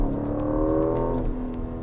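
A 2023 Aston Martin Vantage engine revs steadily up close, a sustained wailing tone that holds for about two seconds without talk.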